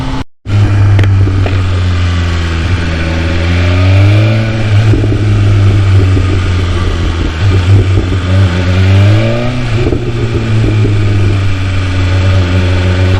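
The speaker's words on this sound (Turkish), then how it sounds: "Ve egzozumun sesi de çok güzel." A car's exhaust idles with a deep, steady rumble, then the engine is revved in two rising and falling sweeps, loud and close, with no talking.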